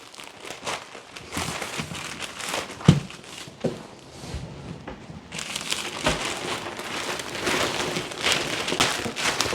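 Thin plastic bag crinkling and rustling as a folded suit is slipped inside for travel packing, close and fairly quiet, with irregular crackles and a few sharper crunches, growing busier toward the end.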